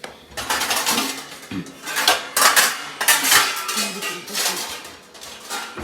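A spoon scrapes and clatters against a pot and plates while soybean pulao is served, a busy run of close, loud metallic clinks and scrapes with no talking.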